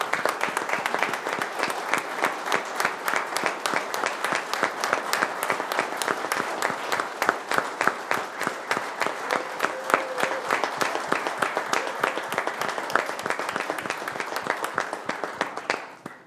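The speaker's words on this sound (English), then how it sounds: "I think that deserves a round of applause before we do anything else." A round of applause rolls through a city council meeting, many hands clapping in a fairly steady rhythm at moderate level for about sixteen seconds, tapering off at the very end without any voices.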